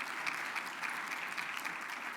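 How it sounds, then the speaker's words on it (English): Steady, dense applause from a conference audience at a business legislative summit, a brief even burst of many hands clapping together. "Let's give her a round of applause"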